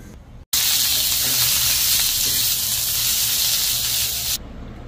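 Coconut, ginger, garlic and onions roast in a hot pan for a mutton masala, with a loud, even hissing sizzle that starts abruptly, holds steady, then cuts off.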